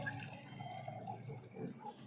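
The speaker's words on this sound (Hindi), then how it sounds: "अब मैं इसमें लगभग आधा लीटर ये पानी डालूँगी।" About half a litre of water is poured into a clay pot to make tulsi plant fertilizer, a soft continuous trickle and splash heard close up and fairly quietly, with no talking.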